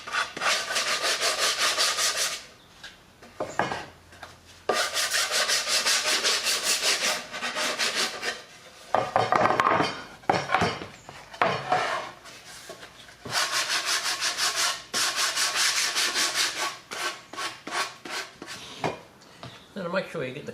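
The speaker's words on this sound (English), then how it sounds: "A bit of a light sand, get rid of those nice little splintery bits" A wooden baseboard for a model train layout gets a light hand sanding, bursts of dry scratchy rubbing in repeated strokes separated by short pauses, close and fairly loud.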